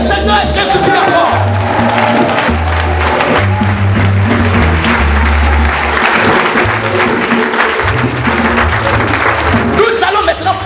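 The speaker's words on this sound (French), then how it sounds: "On acclame le Seigneur et Jésus-Christ encore." A church congregation bursts into sustained loud applause and cheering for the Lord, the clapping dense and close throughout, with voices and music mixed underneath.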